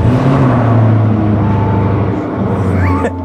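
A Lamborghini supercar in a large showroom hums with a steady, loud low engine drone close by, with faint voices underneath and a brief rising whine near the end.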